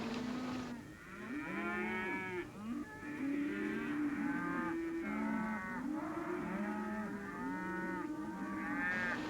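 A herd of cattle rounded up in a basin moos continuously, many overlapping low and drawn-out calls filling the scene at close range with no talking.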